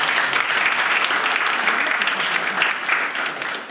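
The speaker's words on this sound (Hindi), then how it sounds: "जोरदार तालियों से" Loud, continuous applause fills a university hall as the dean of the faculty is welcomed at a Ramanujan birth anniversary event, steady and close throughout.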